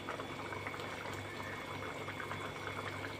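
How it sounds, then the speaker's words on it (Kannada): Paneer gravy with capsicum and onion boiling in a pan, a quiet steady bubbling and simmering that carries on evenly throughout. "ಇದು ಇನ್ನೊಂದು ಕುದಿ ಬರೋವರೆಗೂ ಕುದಿಸೋಣ."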